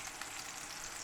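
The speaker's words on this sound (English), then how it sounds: "they are now, the meatballs are frying" Pork meatballs fry in a pan, making a steady, even sizzle that stays at a constant level throughout, with no talking.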